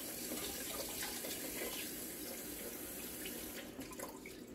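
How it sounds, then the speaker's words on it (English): Water pours steadily into a bowl of strawberry cake mix, a continuous close splashing gush with no talking. "And I am going to pour that in. And I am going to start with 3/4 cup of water"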